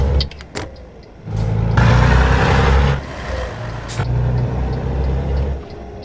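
Heavy Liuqi Balong 5071S truck engine in Euro Truck Simulator 2 droning and revving in bursts, with a hiss of air brakes and a few sharp clicks, mechanical and close.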